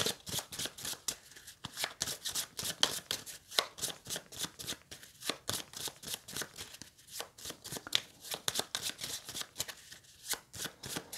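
A deck of playing cards for the board game Heat being shuffled by hand, crisp repeated riffling bursts in a steady rhythm, close and clear, with no talking.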